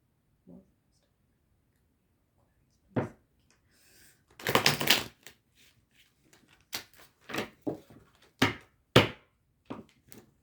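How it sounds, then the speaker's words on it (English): Tarot cards shuffled by hand, a series of soft, crisp riffles and taps spread over several seconds, with a denser burst of shuffling midway and several quick clicks of cards falling out of the deck near the end. "A whole bunch of cards actually fell out of the deck"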